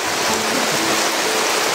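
A heavy shower of rain pours down, an even, loud, close-up rushing hiss that stays constant throughout with no one talking.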